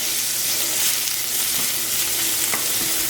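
Onions and garlic frying in hot olive oil give a loud, steady sizzle with soft stirring scrapes, close up and continuous, with no voices.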